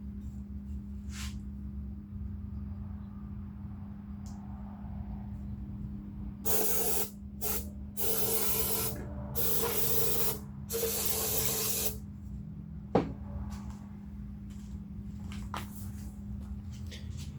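Carburetor cleaner sprays onto Geo engine parts in several bursts of loud hiss, separated by pauses, over a low steady background hum.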